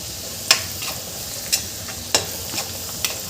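Spice mixture with coriander powder sizzles in a hot pan, with a few sharp scraping stirs of a spoon standing out over a steady frying hiss, close up and without talk.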